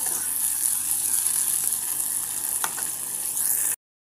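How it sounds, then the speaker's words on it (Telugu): Onions and curry leaves fry in a pan for an okra curry, a steady close sizzle with a brief scrape of stirring near the end before the sound cuts off. "ఇప్పుడు దీన్నంతా మంచిగా కలబెట్టేసుకొని లైట్ బ్రౌన్ కలర్ వచ్చేంత వరకు ఫ్రై చేయండి"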